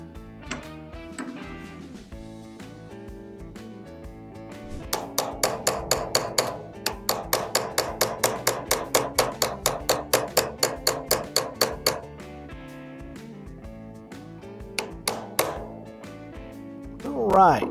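Hammer tapping a punch to drift a rear sight into a Smith & Wesson Bodyguard 2.0 pistol slide, a long run of quick, even metallic taps up close, with a few scattered lighter knocks before and after.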